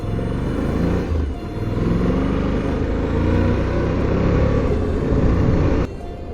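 A 4WD vehicle rumbles steadily at low speed through a slimy creek crossing near Mount Stanley in the Brisbane Valley, its engine drone continuous and close, with a brief dip in the middle.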